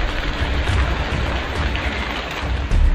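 Heavy rain pouring in Roorkee with flooded streets, a dense, steady hiss of falling water with low rumbling underneath, continuous and loud with no talking.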